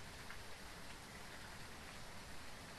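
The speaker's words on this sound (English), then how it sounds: "Why must it be raining?" Faint, steady hiss of rain falling in the ghost-hunting video game Phasmophobia, a soft continuous wash with no other sounds.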